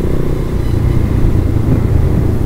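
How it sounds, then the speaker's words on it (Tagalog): Motorcycle engine fitted with a newly bought sprocket, running steadily with a loud, low rumbling drone that holds level throughout, close to the microphone and with no voices. "Yan, walang kahirap-hirap yung motor natin."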